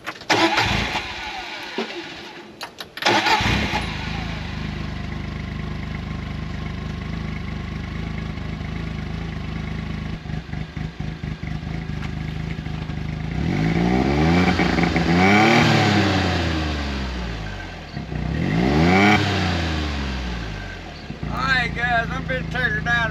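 A John Deere Gator utility vehicle, just fitted with a new fuel pump, cranks over and catches, then idles close by and revs in two rising and falling surges. Someone speaks briefly near the start.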